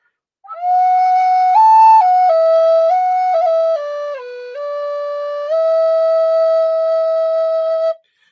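Native American flute playing a smooth connected phrase, a single clear breathy tone gliding between held notes without breaks, loud and close, with no voices.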